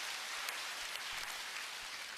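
Short burst of audience applause at a product presentation talk, a soft, even wash of many hands clapping at moderate distance, with no speech over it.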